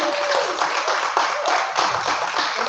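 Steady applause from an audience at a school board candidate forum, dense and continuous clapping filling the room at an even level throughout.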